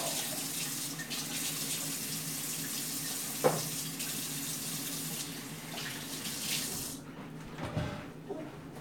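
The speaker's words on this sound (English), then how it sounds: "I'm going to rinse the oil off my hands real quick over here at the sink" Water runs steadily from a kitchen sink tap as oily hands are rinsed beneath it, a continuous close splashing with a few brief knocks before the flow stops near the end.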